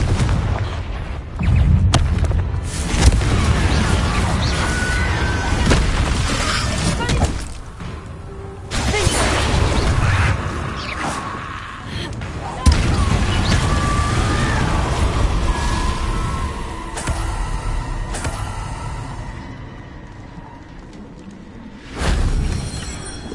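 Confringo fire spell exploding in the PS5 game Hogwarts Legacy, loud repeated booming blasts and shattering impacts with crackling debris, recurring through a stretch of gameplay with other spell effects.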